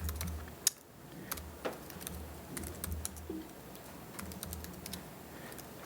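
Quiet, irregular clicking of keys being typed on a computer keyboard, a series of soft taps at close range with short pauses between bursts and no talking.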